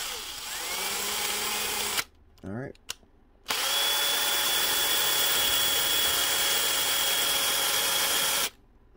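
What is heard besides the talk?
drill bit running in reverse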